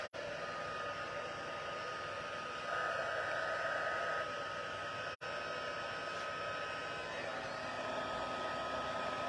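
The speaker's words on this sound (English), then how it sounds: "Get that heat tool warmed up." A heat tool blows hot air for embossing powder on a Christmas stamped card, a steady close roaring whoosh with one brief cut-out midway.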